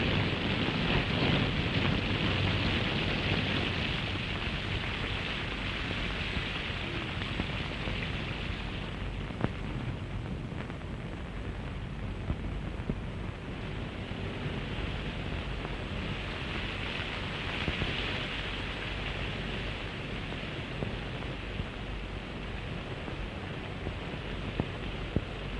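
Heavy rain in an old Hindi film scene, a steady dense hiss with a faint low rumble underneath, continuous and moderately quiet throughout with no voices.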